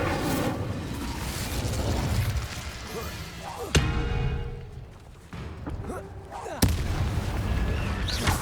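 Spellcasting in the Hogwarts Legacy video game with the Incendio fire spell, giving loud fiery bursts and sharp blast-like impacts over dense game noise, with two strong hits standing out midway and near the end.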